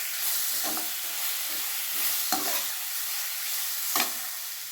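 Guava pieces being sautéed in a pan for chutney give a soft, even sizzle, with a few distinct scrape-and-stir bursts recurring about every second or so.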